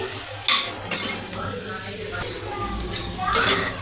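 Broad beans being stirred in a pan with chili powder, a spatula scraping and clinking against the metal in a few distinct bursts over a low, steady sizzle, close and moderately loud.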